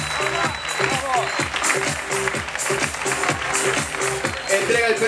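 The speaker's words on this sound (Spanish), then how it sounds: "¡Fuertes de aplauso para María Paula!" Applause and cheering rise from the crowd at a nighttime pageant crowning its first princess, heavily mixed with loud rhythmic music and a voice, the clapping forming a steady wash beneath the beat.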